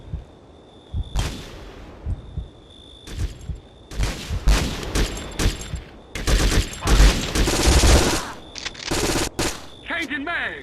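Rapid automatic-weapon bursts and single shots crack and boom close up in the war shooter game Conflict: Global Storm, firing in a dense, uneven stream that grows heavier toward the end.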